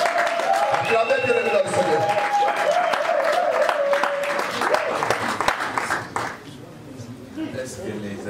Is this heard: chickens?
no